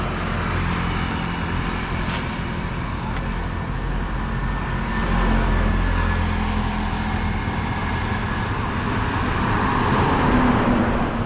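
A motor tricycle passes on an early-morning road, its steady engine drone and road rumble swelling slightly as it goes by, with no other voices.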